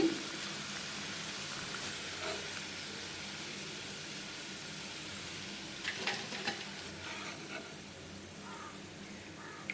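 Ajwain leaf pakodi fry steadily in hot oil, a soft continuous sizzle with a few brief louder crackles and stirring clatters midway.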